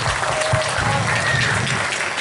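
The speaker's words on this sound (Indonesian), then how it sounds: "Tepuk tangan buat UKM UGI Ulinuha." Audience applause at a religious gathering held at a campus, steady dense clapping filling the whole stretch with faint voices mixed in.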